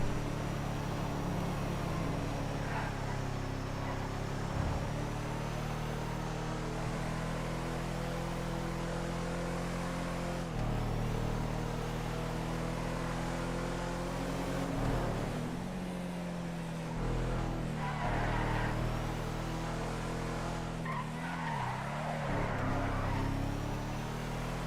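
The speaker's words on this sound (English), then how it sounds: "Sick car." Car engine in GTA roleplay, a steady sustained drone that shifts pitch in places as it revs, moderately loud and continuous without voices.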